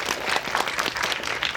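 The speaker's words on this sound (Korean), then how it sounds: "박수 부탁드립니다" Brief, lively applause from an audience at a film promotion talk event, a dense patter of clapping held at a steady level.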